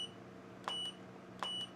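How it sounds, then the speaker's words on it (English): A camera flash unit gives two short electronic beeps as it fires, evenly spaced and quiet against a faint steady hum, with no talking. "when I press it now, it's gonna beep out loud"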